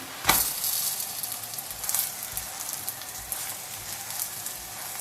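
Steady bright sizzle of a soft pan-fried stuffed flatbread cooking in oil, with a sharp crackling burst as it is flipped near the start and softer turning noises later, close and moderately loud with no talking.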